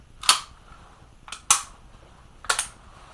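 A Walther P38 pistol is handled and checked to make sure it is empty, giving three sharp metallic clacks spaced about a second apart, fairly close and alone.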